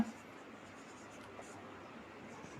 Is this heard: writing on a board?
yes